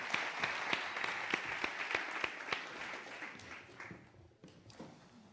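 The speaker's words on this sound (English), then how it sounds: "Let us give him a round of applause." Audience claps through a round of applause at an anthropology and design talk, the claps distinct and fairly close, steady at first and then thinning out and dying away.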